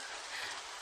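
Steady rain, heard during a traffic jam. It makes a dense, even hiss of drops on a surface, fairly loud and continuous, with no talking.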